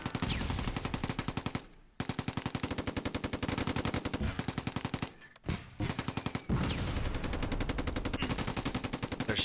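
Sustained, rapid bursts of machine-gun and rifle fire in the WWII tactical game Close Combat II, a dense rattling volley with two brief pauses before the shooting resumes just as loud and continuous.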